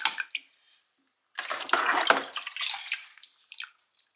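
Water drained from a goldfish tank splashes and pours in irregular bursts, a few quick spatters first, then a longer gushing stretch that trails off, fairly close with no speech.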